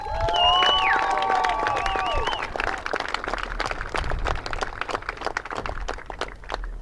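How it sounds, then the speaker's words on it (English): Applause and cheering from a crowd at a girls varsity soccer championship for both teams, steady clapping that carries on throughout, with whistling and talk mixed in at the start. "Both teams enjoy another round of applause here"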